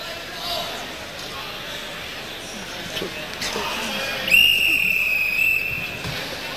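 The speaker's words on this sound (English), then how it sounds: "There's a whistle." Referee's whistle at a boxing match, one shrill sustained blast about a second long, loud and up front over crowd murmur and ringside commentary.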